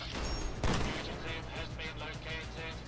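Gunfire in Fallout 4 with the Fallout London mod, a sharp shot followed by a dense burst of quieter rapid reports and clatter, all under a busy game soundscape.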